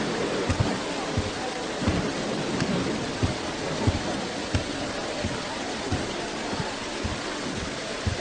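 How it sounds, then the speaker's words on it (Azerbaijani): Heavy rain pours steadily in a dramatised scene that breaks a drought, with a constant hiss of downpour and repeated low rumbles and thuds of thunder beneath it, all fairly loud. "Sən bir yağışa bax."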